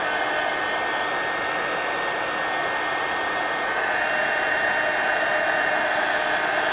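A heat dryer blows steadily and loudly over paper wet with ink, a constant close-up whooshing hum that runs unbroken from start to finish.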